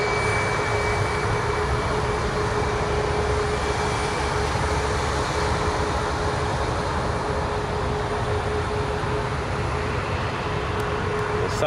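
Aircraft departing Toronto Pearson airport, a broad continuous engine roar with a steady whine, sustained and fairly loud throughout at a distance.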